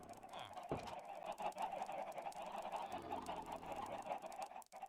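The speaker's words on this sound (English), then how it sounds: "Get off the baby's bed, you stupid chicken." Chickens in the Minecraft video game give short, clucking game-sound calls, loud and close, several overlapping bursts over a steady background tone, with no talking.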